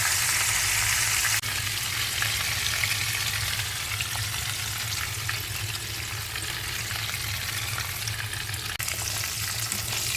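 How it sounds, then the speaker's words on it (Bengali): Koi fish frying in a pan, a steady dense hiss of sizzling oil that stays loud and even throughout with no talking. "আরেকটা পিঠ ভাজা চলছে।"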